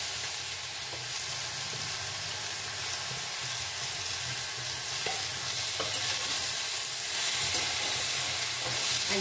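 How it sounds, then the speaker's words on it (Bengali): Chopped bottle gourd sizzles steadily in a hot pan with spices while being stirred, a continuous broadband frying hiss with occasional scraping knocks, close and fairly quiet, no talking. "এই যে লাউটা কুচিয়ে রেখেছি এই লাউটা আমি এখন এর মধ্যে অ্যাড"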